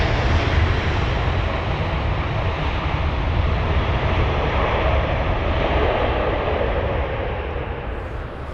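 Turkish Airlines Boeing 777 jet engines rumbling at London Heathrow as the airliner prepares to taxi toward runway 27 left, a loud, steady broadband roar that holds evenly before easing slightly at the end.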